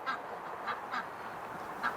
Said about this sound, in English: they're driving the ducks nuts inside because they keep making noises and the ducks keep quacking at them